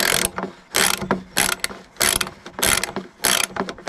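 Ratcheting wrench tightening a bolt on the starter of a Yamaha Rhino 660 side-by-side, a close, loud burst of rapid pawl clicks repeated in about six strokes with short pauses between them, no talking.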